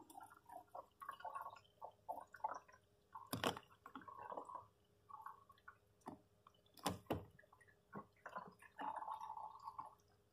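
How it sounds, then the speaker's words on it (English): Water gurgles and drains down a camper van sink pipe, close and quiet, with intermittent glugs and sloshes and a few sharper splashes spread over about ten seconds. "You hear the water going down?"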